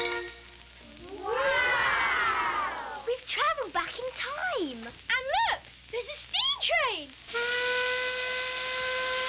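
A steam-train whistle and hiss, played as part of a children's junior jazz band performance: a burst of breathy hiss, then a run of rising and falling whistle-like swoops, ending on a long steady whistle tone, with voices in between.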